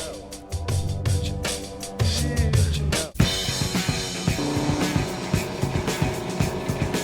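Lamborghini Gallardo Superleggera LP 570-4 V10 accelerating hard on the Monteblanco circuit in Spain, its loud, close engine climbing through rapid, almost brutal robotized paddle-shift gear changes, with a sharp cut before revving on.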